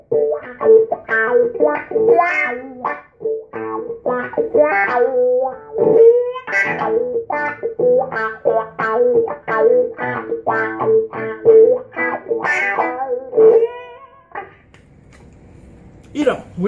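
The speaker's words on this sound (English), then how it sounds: "I happen to have a Vox wah pedal." An electric guitar runs through a secondhand Vox wah pedal, playing a rhythmic run of short, vocal-sounding swept notes that rise and fall, loud and close, before fading at the end.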